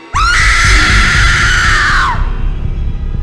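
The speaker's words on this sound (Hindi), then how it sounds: "आधी रात हुई तो मैरी की दादी को जोरों की चीख सुनाई दी" A single loud, high-pitched scream rises sharply and holds for about two seconds before trailing off, close and piercing.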